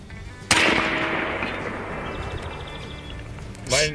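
A 12 gauge AEA Zeus airgun fires a 1275-grain slug at an outdoor target, one sharp loud blast that rings out and decays slowly, with a second burst of noise near the end.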